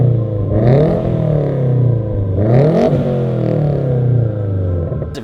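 Subaru WRX engine fitted with Tomei unequal length headers, revving up and down repeatedly in a steady, loud, close rumble with rising and falling pitch sweeps, ending with a short clatter.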